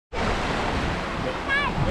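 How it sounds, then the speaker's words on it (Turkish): Waves washing onto the Caspian Sea shore at Makhachkala, a steady broadband rush of surf mixed with wind noise on the microphone. "Hazar Denizi kıyısındayım."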